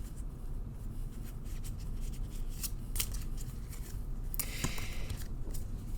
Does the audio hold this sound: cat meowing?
no